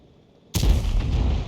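Artillery shell fire from a 105 leFH18B2 howitzer in a tank video game, a single loud, close boom that breaks out of near silence and rolls into a long, rumbling impact tail.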